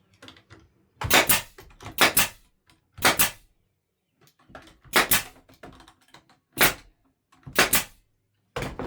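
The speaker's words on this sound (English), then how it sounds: "And you shoot your brads." Brad nailer driving brads into cedar fence pickets while building a planter, sharp snapping shots in quick pairs and threes separated by short pauses, close and distinct.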